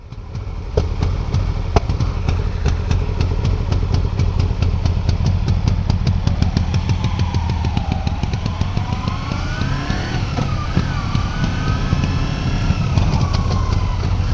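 A Kawasaki Ninja 250 motorcycle engine runs close and loud, a steady rapid idle that rises and falls in pitch with a few light revs, no talk over it.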